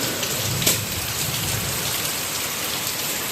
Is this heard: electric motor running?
no